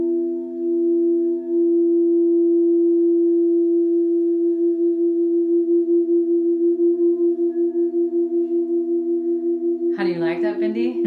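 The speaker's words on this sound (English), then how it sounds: "we're going to hear this sound. This is that beat frequency" A steady sustained beat frequency tone, two close pure pitches pulsing in a slow regular wobble, loud and alone, with a brief burst of a voice at the very end.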